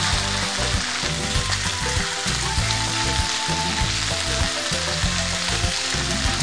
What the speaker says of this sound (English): because you just want to brown the outside of the meat. You don't want to boil the meat.